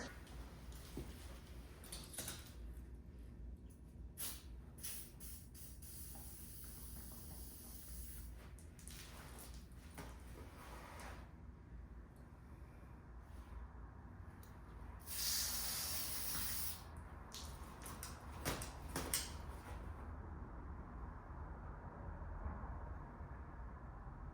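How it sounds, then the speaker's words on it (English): Short hissing bursts of a WD-40 aerosol can repeat several times, spraying dust off a car's engine parts, with one longer, louder spray near the end amid faint handling noises. "Now I'm gonna spray some WD-40 in here and get rid of all of this dust."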